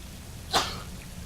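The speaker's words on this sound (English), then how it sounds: "Please stop sneezing." A single sharp sneeze bursts out midway in Skyrim gameplay, brief and fairly close, with a soft tail fading after it over a quiet background.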